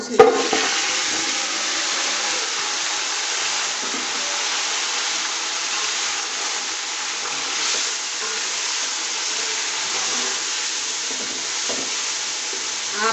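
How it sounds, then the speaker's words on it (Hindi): Onions frying in oil in a pot until golden brown for degi yakhni beef pulao, a steady close sizzle that holds evenly throughout with no talking. "इनको गोल्डन ब्राउन होने तक जो है हम फ्राई करेंगे"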